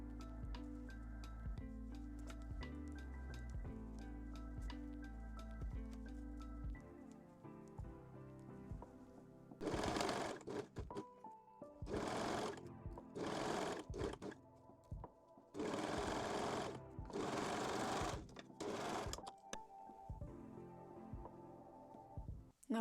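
A sewing machine runs in several bursts of rapid stitching while sewing lingerie, stopping and starting, with quieter pauses between runs and soft background music early on.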